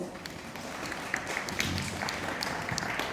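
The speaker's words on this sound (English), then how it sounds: "Let's give them a round of applause." A university audience applauds at a careers keynote event, a faint, distant wash of clapping hands that holds steady throughout with a little background murmur.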